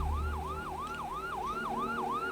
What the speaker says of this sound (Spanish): se escuchó las sirenas de un coche patrulla de la policía local